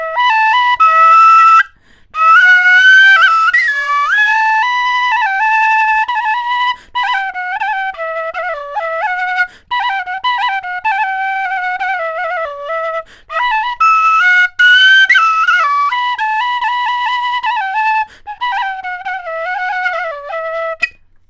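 A flageolet played solo as a loud, clear, breathy whistle-like melody with short phrases and brief pauses, close and alone without talking.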